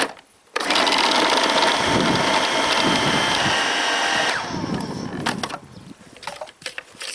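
A food processor blends icing sugar and cocoa powder with a loud, steady motor whir lasting about four seconds, then gives way to softer clatter and rustling.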